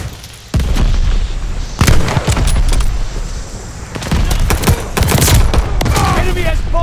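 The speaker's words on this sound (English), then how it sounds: "Heads up, enemy glide bomb coming in hot." In the Call of Duty: Vanguard video game, an enemy glide bomb explodes amid heavy battlefield gunfire, with loud booms and rattling shots that continue almost without a break, close and dense.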